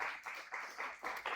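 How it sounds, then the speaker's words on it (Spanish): A church congregation claps in a strong rhythmic pattern, with bursts of hand claps pulsing about every quarter second at moderate, slightly distant volume. "Dale un fuerte aplauso al Señor"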